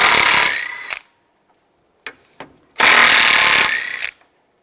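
A power ratchet or drill backing out bolts with a 10mm socket on a 2010-2015 Toyota Prius, two loud whirring bursts separated by a pause with a couple of small clicks and clanks.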